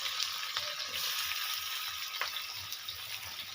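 Onion and chillies fry in hot oil with a bay leaf in a village kitchen in West Bengal, giving a steady, close hiss and crackle with faint stirring.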